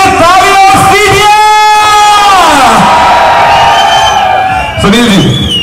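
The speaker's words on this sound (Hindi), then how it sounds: "एक बार दिल से तालियां दीजिए" A crowd at a comedy show at the Kajali Teej fair in Bundi, Rajasthan, cheers loudly with sustained whoops and rising shouted calls, close and boisterous throughout.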